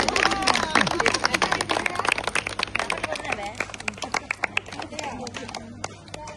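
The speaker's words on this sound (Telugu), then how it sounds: "గట్టి కొట్టండి చప్పట్లు" A group clapping hard and unevenly, sharp claps scattered across the whole span under steady crowd chatter and talking voices.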